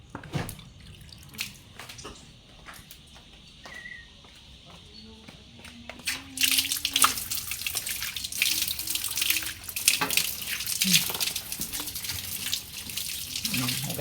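Running tap water pours into a sink while hands are washed, first quiet and sparse, then a louder, steady rush for the second half, with brief voices and clattering in the background.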